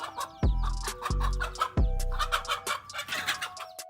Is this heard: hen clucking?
yes